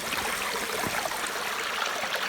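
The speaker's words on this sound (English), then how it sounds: "Total gusher, I like it. This is an awesome spring." A powerful mountain spring gushing at full flow beside a rocky trail, its constant close splashing rush filling the scene without pause or voices.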